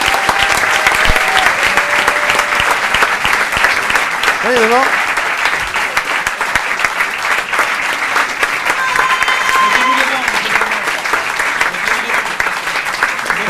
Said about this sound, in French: Je vais demander à tous les autres artistes de venir nous rejoindre dans la foulée, tous ensemble, sous vos applaudissements